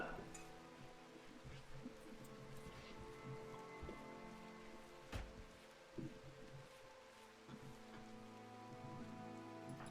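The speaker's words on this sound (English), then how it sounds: "finally, some rain" Rain patters steadily in the video game RimWorld, a soft continuous wash with scattered louder drops and faint game tones mixed in underneath.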